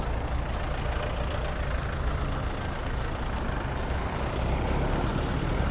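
A used Yanmar EF 514MU tractor of about 51 horsepower is being driven. Its diesel engine gives a steady, loud, close rumble with a constant chugging beat throughout, and no talk is heard.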